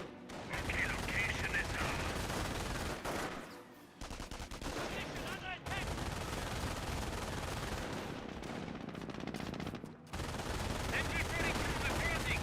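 MG42 machine gun fire in the Company of Heroes video game, sustained rattling bursts with battle noise, broken by brief pauses, under a commentator's voice.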